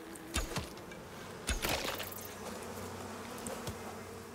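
Bees buzz inside a cave in the video game Icarus, a steady droning hum broken by a few sharp clicks and thuds.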